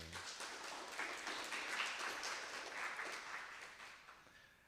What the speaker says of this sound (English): So a round of applause and a thank you to the Wasmer Art Gallery.